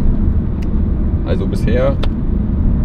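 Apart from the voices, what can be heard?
Audi RS4 B7 car driving, engine running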